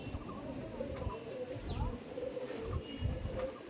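Chatiyal pigeons of the Golden Jiriya and Doyaj bloodlines, Madras line, coo in low, soft rolling calls that repeat steadily at close range over a murmur of background noise.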